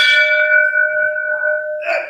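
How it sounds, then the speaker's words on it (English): A single loud bell rings with a clear, sustained metallic tone that slowly fades, followed by a brief clank near the end. "It's a loud bell."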